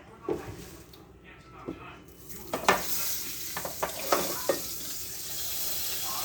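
A steak sears in a hot pan with a steady sizzle, broken by scraping and clattering as it is moved, while a person talks over it.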